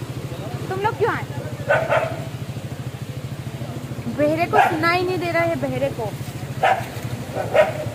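Dogs bark a few times in short bursts, mixed with people talking and a steady low engine hum throughout.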